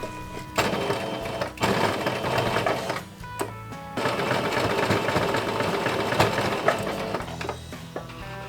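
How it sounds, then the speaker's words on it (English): Sewing machine stitching fabric binding for the edges of a Tifa Lockhart cosplay skirt and top, a steady loud mechanical whir running in long bursts with brief pauses between seams. "sewing machine"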